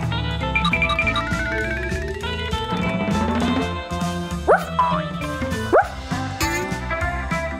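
A dog on take-your-dog-to-work day barks a couple of short, sharp times near the end, heard over continuous bouncy music.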